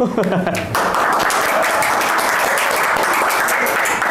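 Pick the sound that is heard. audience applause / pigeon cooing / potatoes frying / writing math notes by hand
audience applause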